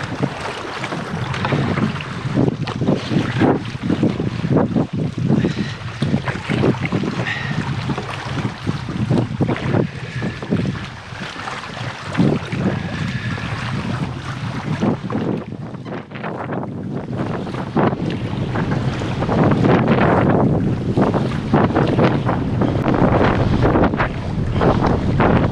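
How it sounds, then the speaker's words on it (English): Strong gusting wind batters the microphone for the whole stretch, roaring in uneven surges that swell louder toward the end. "The winds are gusting like crazy."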